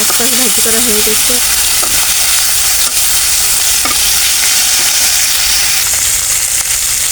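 Fish sizzling in hot oil in a kadai, a loud, steady frying hiss that runs throughout, with brief stirring scrapes and a short burst of background voice near the start.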